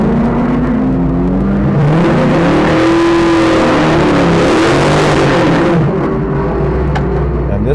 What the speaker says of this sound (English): Up next is this black, sinister looking modern day Camaro.